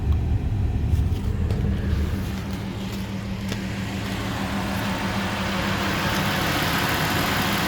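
A Nissan Frontier pickup with a failed ignition coil idles roughly nearby, its low engine drone steady but uneven with faint irregular knocks and no speech.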